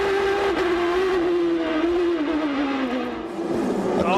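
IndyCar race cars on the streets of Miami, a loud engine whine that holds near, then drops in pitch as the car passes, before another car climbs in from the distance.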